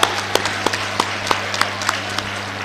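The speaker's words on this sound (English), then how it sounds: "can we give all of them a big round of applause," An audience at a district school awards function applauds the top 100 schools, with steady clapping from a crowd, fairly loud and close, with sharp individual claps standing out through the short burst.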